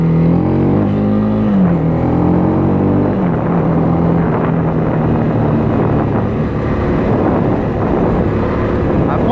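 A Honda CB300R's single-cylinder engine revving up under acceleration, a loud, close, buzzy drone whose pitch climbs and then drops at a gear change before steadying, with wind rush under a voice talking.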